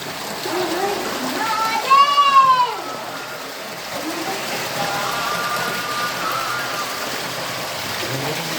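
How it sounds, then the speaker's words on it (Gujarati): A continuous stream of water pours inside a cave shrine of Sapteshvar Mahadev, a steady splashing rush under nearby voices that talk throughout, with a brief tonal swell partway through. "અને આપ જોઈ શકો છો અહીંયા નિરંતર પાણીની ધાર આવી રહી છે."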